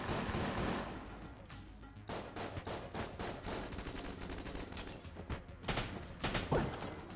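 Enemies firing guns in Enter the Gungeon, scattered sharp gunshot bursts and pops at varying intensity, fairly quiet overall.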